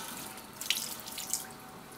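Water runs from a tap during a hair wash after a hair transplant, a quiet continuous splashing flow with a couple of small spikes, heard alone for two seconds.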